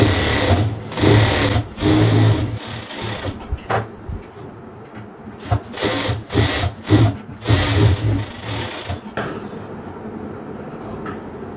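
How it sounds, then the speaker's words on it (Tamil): A sewing machine stitches lining fabric for a half-circle maxi dress in rapid mechanical bursts, starting and stopping several times before a quieter stretch near the end, heard up close. "இந்த பக்கம் ஒரு தையல் இந்த பக்கம் ஒரு தையல் போட்டு"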